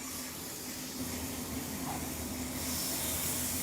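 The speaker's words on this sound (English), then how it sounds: "And we're going to sear it on all sides." Pork tenderloin searing in a hot pan, a steady broadband hiss and sizzle of meat hitting hot oil that stays loud and continuous throughout, with no talking.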